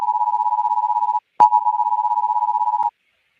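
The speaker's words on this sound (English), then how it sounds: "That's a severe thunderstorm warning tone you guys hear." A severe thunderstorm warning alert tone plays as a loud, steady, single-pitched beep, broken by a short gap with a click, then resumes before cutting off.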